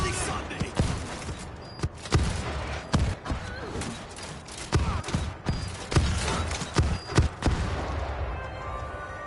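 Bots in the World War Z video game fire repeated gunshots in irregular bursts, sharp loud cracks and thuds over a rumbling game backdrop.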